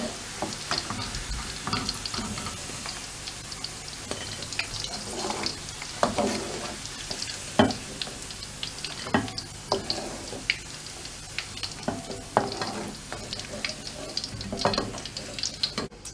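Tempeh stir-fried in a pan, a bright crackling sizzle with frequent clattering stirs and scrapes, close and busy, with a watery running texture underneath.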